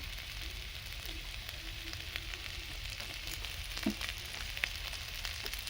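Mustard oil sizzles steadily in a pan over low heat with pui leaf raita, a soft continuous frying hiss with a few faint clinks, heard close and without talk.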